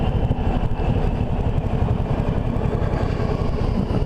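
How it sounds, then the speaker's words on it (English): Steady, loud engine rumble from a big Suzuki VLR 1800 Intruder cruiser motorcycle under way on the road, a deep continuous throb with faint wind noise above it and no talking. "lumbering Suzuki VLR 1800 Intruder"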